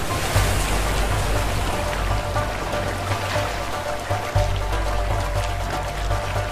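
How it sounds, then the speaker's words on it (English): Rushing waterfall in the video game A Way Out, a dense, steady roar of falling and churning water filling the whole clip at constant loudness, with a low rumble beneath. "Waterfall!"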